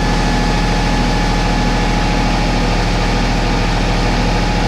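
A heavy engine on a weeding machine runs steadily at low revs, a constant loud drone with a regular low throb and no voices.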